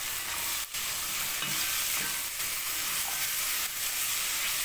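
Rinsed fava beans sizzle steadily in a hot pan with a little salt while being stirred, a continuous frying hiss broken by soft scraping stir strokes, close and fairly loud, with no talking.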